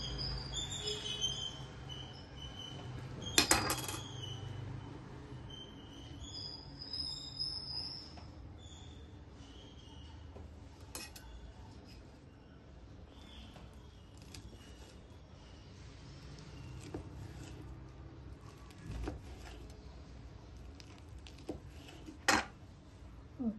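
A knife cuts through pieces of set coriander vadi (kothimbir vadi) on a plate, giving a few sharp clinks and taps against the dish amid quiet kitchen background noise, with two louder knocks near the start and end.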